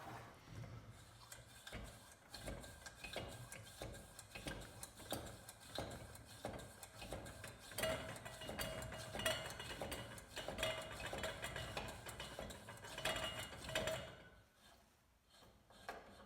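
A hand pump on a fuel lantern or stove is worked in a steady series of rhythmic strokes with light metallic clicks, close and fairly quiet, ending in a brief lull.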